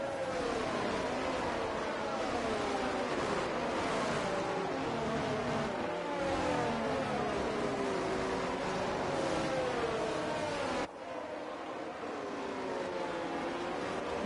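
Formula 2 race cars roll through a formation lap at the Dutch Grand Prix, a steady blend of engine drones with pitches sliding up and down, moderately loud and continuous, with a slight drop near the end.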